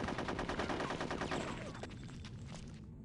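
Rapid bursts of automatic gunfire from the video game Conker's Bad Fur Day, loud and dense at first, then thinning into scattered shots and fading echoes over about three seconds, with no talking.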